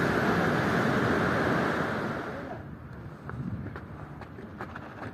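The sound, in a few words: waves on a beach in Tenerife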